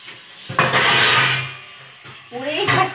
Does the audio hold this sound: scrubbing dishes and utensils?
yes